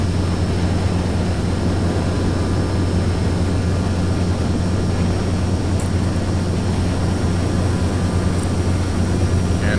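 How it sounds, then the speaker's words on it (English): Steady, loud turboprop engine drone of a Quest Kodiak on approach in the X-Plane flight simulator, a continuous hum with a constant low tone and no voices; the flap movement itself is not distinct. "I think we are at a safe speed to lower our flaps."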